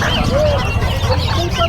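Chickens cluck and chatter at a busy livestock and pet market, short fowl calls rising over steady crowd noise and people talking nearby.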